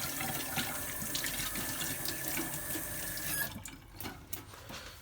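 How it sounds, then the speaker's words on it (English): Hands being washed under a running kitchen tap while making sourdough, a steady close water splash that thins out after a few seconds as the flow drops. "And then you're going to wash your hands"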